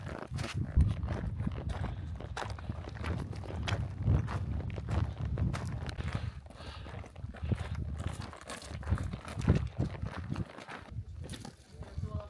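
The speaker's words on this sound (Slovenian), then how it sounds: "Prav prijetna je hoja po snegu." Footsteps crunching through snow on a high mountain trail in the Triglav area, a steady walking rhythm close to the listener, running continuously with breathing and faint voices mixed in.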